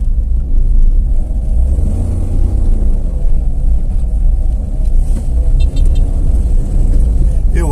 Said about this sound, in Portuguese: Esse carro tá morrendo muito.